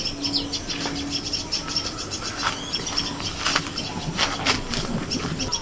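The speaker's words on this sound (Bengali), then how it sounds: "ওই যে পাখির আওয়াজটা হচ্ছে, শুনছে চুপ করে" Small birds hidden in bushes outdoors, a dense chorus of high chirps and twitters over a steady insect-like buzz, moderately close and continuous with no talk.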